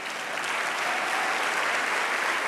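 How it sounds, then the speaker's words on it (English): A crowd at the Oregon Sports Awards ceremony keeps up steady, loud, even applause throughout, with no voices breaking through. "Why don't we just give a round of applause for everybody who's here?"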